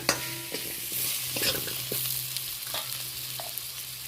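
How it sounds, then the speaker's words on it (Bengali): Potato pieces seasoned with salt and turmeric sizzle steadily in a pan up close, with occasional soft scrapes and taps from stirring and no voices. "লবণ হলুদ দিয়ে আলুটা ভেজে নেব।"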